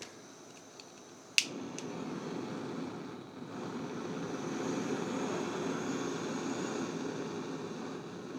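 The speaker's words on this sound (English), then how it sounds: "Let's have a look at the titanium one, which I have to light." A titanium SOTO WindMaster gas stove snaps sharply as its igniter clicks, then settles into a steady, close roaring hiss of the burning flame that lasts several seconds.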